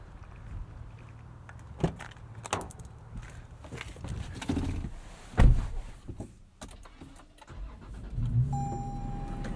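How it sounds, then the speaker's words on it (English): A Toyota 4Runner or Lexus GX 460 SUV engine cranks and catches, then idles with a low rumble; clunks and mechanical bumps along the way, and a faint fan clutch whine near the end. "when you start both of these vehicles up, you get that big whoosh from the fan clutch engaging"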